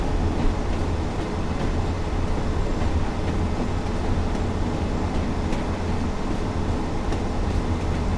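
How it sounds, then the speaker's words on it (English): A Class 142 Pacer train on the Blackpool branch, in a train simulator game, gives a loud, continuous low rumble with steady rolling wheel noise throughout and no voices. "look how much the train is like not rocking just like up and down, but also side to side"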